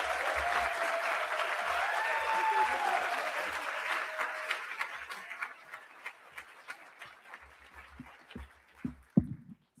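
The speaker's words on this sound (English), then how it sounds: "Please give her a warm round of applause." An audience at the Schomburg Center applauds a speaker's introduction, steady clapping that gradually thins out into scattered individual claps before dying away.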